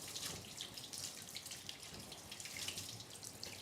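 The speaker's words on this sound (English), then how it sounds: "See how soft that water flows through the fabric?" Water streams through fabric while a dog is bathed during grooming, a quiet continuous splashing flow with small fluctuations and no talking.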